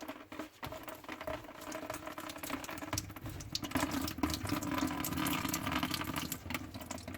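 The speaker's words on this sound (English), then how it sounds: "See the water coming out there now?" Water drains from an unscrewed sink trap in a steady trickling patter, close and fairly quiet, growing a little fuller partway through, with light clattering handling noises.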